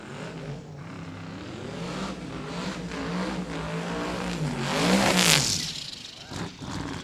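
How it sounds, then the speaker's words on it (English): An Aussie Dodge Charger drag car does a long smoky burnout at Cordova Dragway during a Sick Summer drag racing event, a loud sustained engine roar with tire noise that swells to a peak before easing off. "Beautiful long smoky burnout out past the 60-foot mark for John Ferroni."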